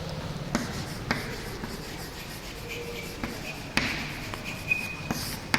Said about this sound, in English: So let me write androecium.